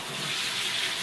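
Water runs hard into a kitchen sink, a loud, dense, steady splashing rush that continues without a break.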